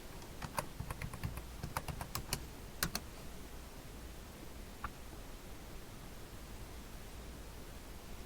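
Quick bursts of computer keyboard typing, faint and close, a short run of key clicks over a steady hiss, then a lone keystroke before quiet.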